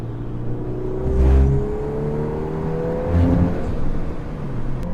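A Volkswagen Golf R accelerating through canyon roads, engine note rising in pitch as it pulls away, with two louder surges of revving and a steady whir, fairly close and without talk.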